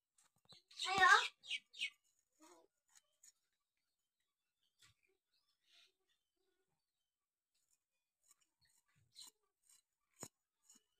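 Bitter gourd and small local potatoes being cut by hand for a fry, a cluster of crisp snipping cuts early on followed by sparse, faint clicks and taps in an otherwise quiet room, with brief voice sounds.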